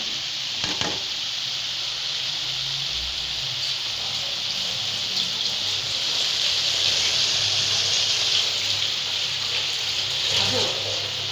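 Bottle gourd and bean curry frying in a pan gives a steady, moderately loud broadband sizzle that holds for the whole stretch, with a faint low hum and no talk over it.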